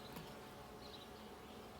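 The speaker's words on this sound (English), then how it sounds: "Boy, they are really buzzing down in there." Honeybees buzz inside an opened hive during an inspection. The drone is faint and continuous, close by, with no voices.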